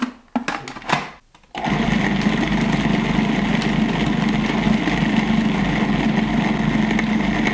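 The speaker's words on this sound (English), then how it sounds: "We want the food processor to be doing the kneading work rather than" A food processor kneads olive bread dough, starting with a few uneven bursts and then settling into a loud, steady motor whir with a low, constant hum that runs to the end.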